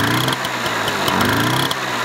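A motorcycle engine runs at a steady, buzzing idle, loud and close, with a regular pulsing rhythm throughout and no speech.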